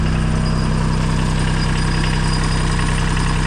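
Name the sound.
engine idling after cold start, less black smoke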